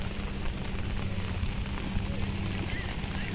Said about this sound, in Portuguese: ainda continua chovendo